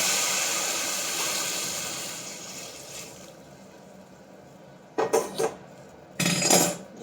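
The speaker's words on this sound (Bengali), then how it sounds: "জলটা দিয়ে দিলাম" Hot water poured into a pot of rice for pulao: a steady rushing hiss that gradually fades, followed by two bright clanks of a utensil against the pot.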